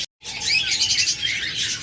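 Budgerigars and lovebirds kept in cages for sale fill the air with dense, overlapping chirps and tweets, close and steady after a brief silent moment at the start.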